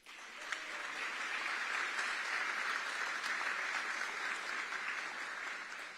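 Audience applause fills a city swearing-in ceremony for a Miami commissioner: steady, dense clapping from a sizable crowd, holding at an even level throughout with no voices on top.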